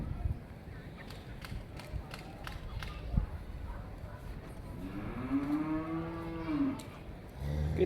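A Cholistani Friesian cross cow moos at a livestock market, one long low drawn-out call rising and falling after a stretch of shuffling, clatter and background voices, fairly close.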